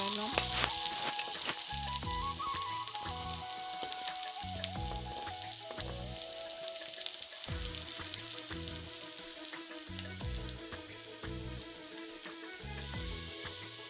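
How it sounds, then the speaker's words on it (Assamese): Chopped onions sizzle steadily in hot oil in a pan for an Assamese dry-fry pork dish, with a constant close frying hiss and repeated scraping stirs throughout, no talking. "পিঁয়াজখিনি এতিয়া অলপ ৰঙচুৱা হোৱালৈকে"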